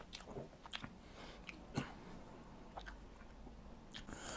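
Barbecued meat on a skewer being eaten, heard as close, quiet bites and wet chewing with a few crunchy snaps scattered over several seconds, with no talk.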